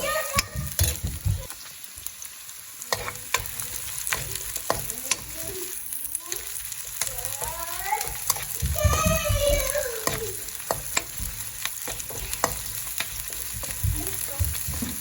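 Spices and chillies sizzle and crackle steadily in a hot pan, with clinks of a stirring spoon against the metal.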